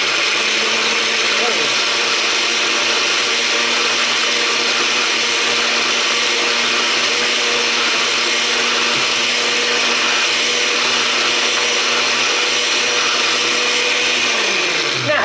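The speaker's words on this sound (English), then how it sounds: "I'm gonna blend this up till it's pureed" A blender or food processor purees a beef jerky marinade with a loud, continuous whirring motor hum that runs steadily throughout and winds down at the very end.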